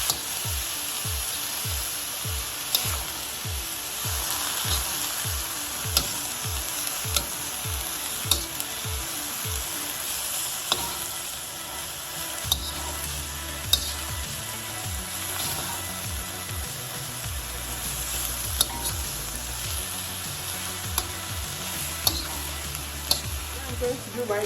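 Homemade spicy Singapore noodles sizzle steadily in a pan while being stirred, with repeated rhythmic scraping and tossing early on, then continuous frying with occasional clinks and some background hum.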